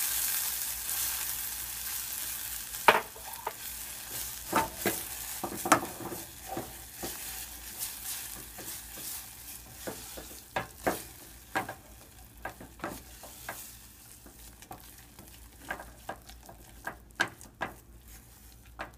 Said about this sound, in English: I'm going to add 1/2 cup of all-purpose white flour and mix that in quickly.